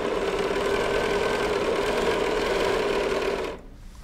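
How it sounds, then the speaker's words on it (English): A sewing machine runs steadily at close range, stitching a quarter-inch seam down quilt strips with an even mechanical whir, then stops abruptly near the end. "Bring it over to the sewing machine, and then just sew 1/4 inch seam allowance all the way down the strip again."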